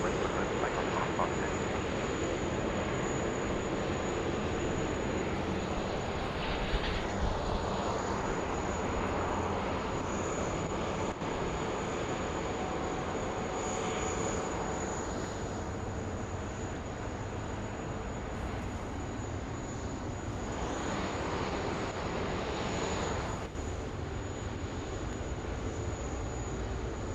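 An airliner takes off from runway 16 left at Sydney Airport, its jet engines roaring loud and steady for the whole stretch, swelling and easing slightly over time.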